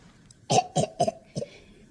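A voice imitates coughing with four short, hoarse coughs in quick succession, close and clear against a quiet background.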